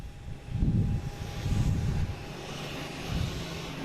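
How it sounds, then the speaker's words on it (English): An American Airlines jet takes off, heavy low engine rumble swelling in pulses and fading slightly, heard from a moderate distance. "All right, we got American taking off, heading to Dallas-Fort Worth."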